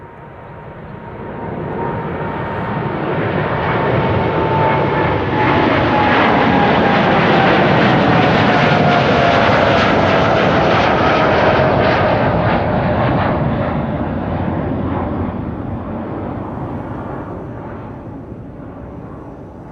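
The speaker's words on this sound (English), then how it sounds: "KLM flight 655, taking to the sky, 7879 Dreamliner to Minneapolis, Minnesota" A KLM Boeing 787-9 Dreamliner takes off from Amsterdam Schiphol bound for Minneapolis, its engine roar swelling from quiet to a loud, sustained peak with a whining tone gliding downward, then slowly fading away.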